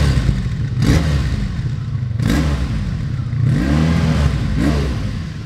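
A 1985 Honda V65 Sabre motorcycle engine running close by, steady idle with periodic throttle blips and rising revs, loud and continuous without talk.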